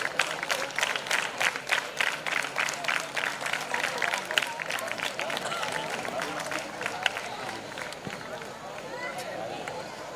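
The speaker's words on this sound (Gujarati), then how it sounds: "જોરદાર તાળીઓના ગડગડાટથી આપણે વધાવી લઈએ" A school prize ceremony for top students sets off rhythmic audience applause, a steady run of claps at moderate distance with crowd murmur behind it, thinning toward the end.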